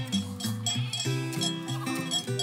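Sheep bleating in a pasture in the Île-de-France region, several overlapping wavering calls repeating close by and loud, with no talk.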